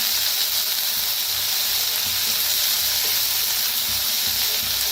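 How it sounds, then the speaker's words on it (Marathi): Chopped onion and tomato sizzle in a hot pan, a dense continuous hiss and crackle of frying that holds steady and close without pause. "त्यातच टाकायचं टमाटर बी, छान भाजून घ्यायचं कांद्याला"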